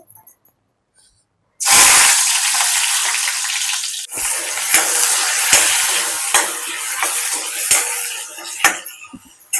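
Stuffed brinjals drop into very hot oil with a sudden loud, hissing sizzle that holds steady, with crackles and spatters throughout and no voices.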